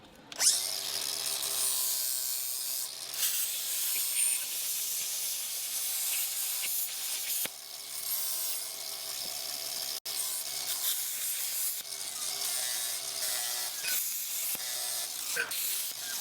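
A Harbor Freight plasma cutter slices through metal to make light brackets, giving a steady, loud hiss and roar that runs almost unbroken for the whole stretch, with a couple of brief dips and a faint voice now and then.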